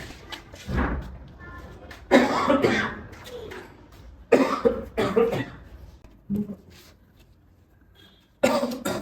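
A man with tuberculosis coughs several times, harsh hacking fits separated by short pauses, up close, with some throat clearing and bits of nearby movement.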